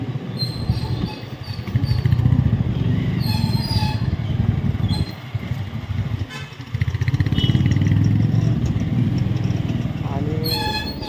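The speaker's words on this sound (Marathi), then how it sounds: "बुलट गाडी आहे, बुलट." A Royal Enfield Bullet motorcycle engine runs steadily during a ride, a dense low rumble continuing for the full length, with a voice speaking over it and a couple of brief horn toots.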